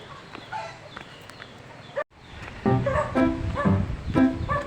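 Several dogs bark at a rural house in the Philippines, their yaps coming in busy overlapping bursts at moderate distance, growing louder and denser after a brief pause.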